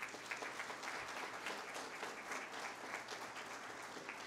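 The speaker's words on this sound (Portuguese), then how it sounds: "Peço uma salva de palmas a ele." Attendees at a solar energy association meeting give a state coordinator steady applause, a dense, even patter of many hands clapping that carries on throughout, heard faintly and at a distance.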